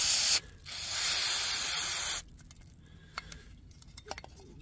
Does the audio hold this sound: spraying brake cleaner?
yes